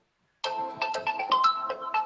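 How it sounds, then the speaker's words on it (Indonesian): A phone ringtone starts abruptly after a short silence, a melodic electronic tune of bright repeating notes ringing steadily and clearly nearby. "aduh nih Mas Timi telepon"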